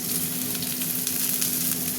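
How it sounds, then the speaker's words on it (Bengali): Mixed vegetables with a dried red chilli fry steadily in oil in a pan, a continuous close sizzle with no break and no voices. "সবজিগুলো এখন একটু ভাজা ভাজা হবে"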